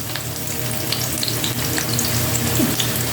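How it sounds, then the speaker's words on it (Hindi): Chopped onion sizzling in hot desi ghee and oil in a pan, a loud, steady crackling fry that holds throughout with no talking. "अब देखेंगे तेल गरम हो गया तो इसके अंदर अब जो है ना ये देखें प्याज डलेगी।"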